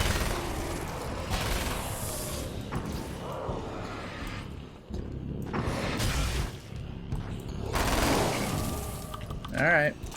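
Gunfire in Alan Wake's American Nightmare, bursts of rapid shots in several clusters with whooshing effects between them, loud and close, while someone talks at times.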